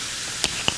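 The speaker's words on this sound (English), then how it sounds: "And now it is frying." Chicken fries in a hot pan with a brief, steady sizzling hiss close by and a couple of small crackling pops.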